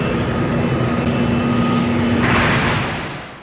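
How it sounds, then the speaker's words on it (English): A jet core booster takes off from a runway in the Gundam 0079 video game, a loud continuous roaring engine rush with a steady hum that swells, then fades out at the end. "A jet core booster has just been spotted taking off from the runway."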